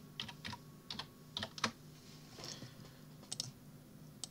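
Quiet, close keystrokes on a computer keyboard while text is typed into Inkscape, arriving in short irregular bursts of clicks with brief pauses between them.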